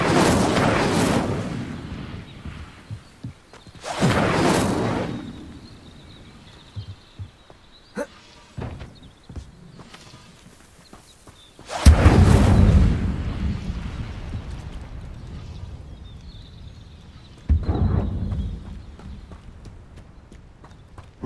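An Incendio fire spell cast in Hogwarts Legacy, heard as several loud whooshing bursts of flame spaced seconds apart, each swelling and fading, with lighter clicks and thuds between them.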